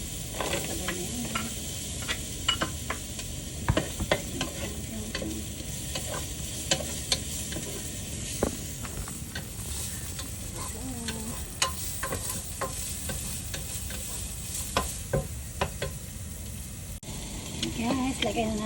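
Onions and garlic sautéing in a little oil for chicken sopas, a steady sizzle running throughout with frequent scrapes and clicks of stirring, close and moderately loud, no talking.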